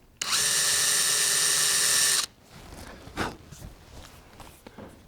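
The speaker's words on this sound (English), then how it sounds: "We're gonna start by drilling just a little hole down so our bit won't skate all over the top." A power drill whirs steadily for about two seconds, drilling a small pilot hole into a guitar's pickup cavity, then stops, followed by faint shuffling and handling noises.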